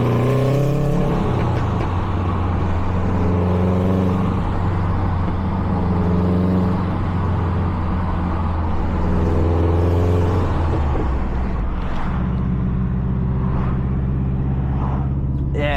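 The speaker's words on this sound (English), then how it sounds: "we got a little mini tunnel. You get some exhaust noise" Car exhaust booming and rumbling inside a small tunnel, a loud steady engine drone with revving swells that fades near the end, echoing close and continuous.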